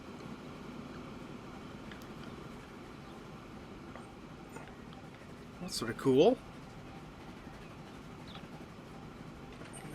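Train rolling along in the Transport Fever 2 railway simulation game, a steady low rumble with rail noise throughout, while a person talks briefly over it near the middle.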